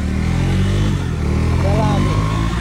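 A KTM Duke 390 motorcycle rides along an empty road, its engine droning steadily and close throughout with continuous rumble and some wind, while a voice talks faintly over it.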